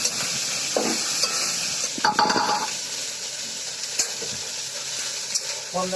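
Spices with chilli powder sautéing in a pan for a Bengali rohu fish curry, a continuous loud sizzle with occasional scraping stirs and light clinks of the utensil against the pan.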